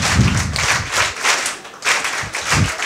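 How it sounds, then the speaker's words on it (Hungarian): A crowd claps together in rhythmic bursts, loud and close, with the applause swelling and dipping in regular pulses. "most elkezdjük a tapsot"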